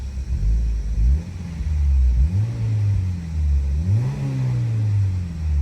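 A turbocharged Honda S2000 pulls away with its engine revving, the note climbing, dropping with gear changes and climbing again in a steady, fairly loud low rumble.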